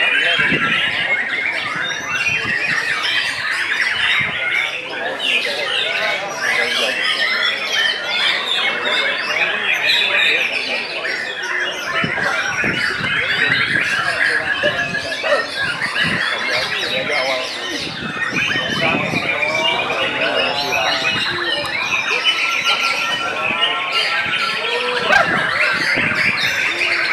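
Birds squawk and chirp continuously in a busy, noisy outdoor gathering, mixed with people talking throughout and some background bustle.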